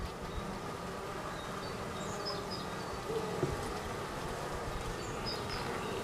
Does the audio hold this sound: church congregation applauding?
no